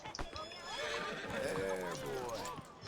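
A horse in the video game Red Dead Redemption 2 lets out a loud, close whinny lasting a couple of seconds, its wavering pitch rising and falling, with a brief hoof clatter at the start.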